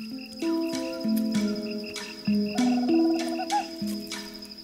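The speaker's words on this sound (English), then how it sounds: "Courtship among these tree frogs is a bit more like speed dating." Several tree frogs call in a chorus of repeated, bright pulsing notes, close and fairly loud, overlapping with steady rhythmic trills in the background.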